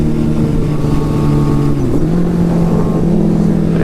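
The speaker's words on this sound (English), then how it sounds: "Got the air shifter hooked up, so I'm going to do a second gear roll on." A turbocharged Suzuki Hayabusa motorcycle with an air shifter pulls hard in a second-gear roll-on, its loud, close engine note climbing steadily, dipping briefly around midway, then droning on without a pause.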